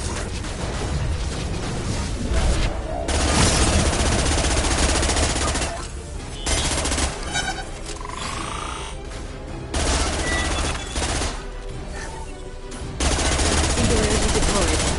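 Dense automatic gunfire from Mass Effect 2 combat runs loud and nearly continuous, with rapid bursts broken by brief gaps and mixed with battle effects and occasional voices.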